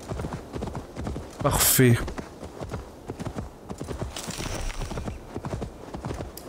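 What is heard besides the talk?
horse hooves galloping in video game Assassin's Creed Valhalla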